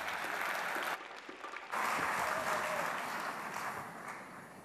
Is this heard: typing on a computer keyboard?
no